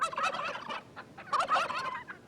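Wild turkey gobbling, two quick rattling bursts close by with a short gap between, fairly quiet and alone.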